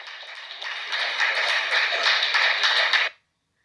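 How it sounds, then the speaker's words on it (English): Audience applause at a stand-up comedy show, a dense spatter of many hands clapping that swells over about three seconds and then cuts off abruptly into silence. "Now they're gonna start applauding."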